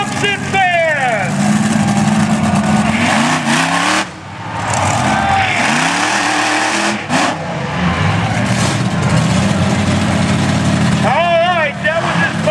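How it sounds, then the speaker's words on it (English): Monster truck engines rev and roar loudly at a Crash-a-rama wheelie contest, with rising and falling revs as trucks hit cars; an announcer talks over the engine noise throughout. "They're going to hit the car and see how big of a wheelie they can do."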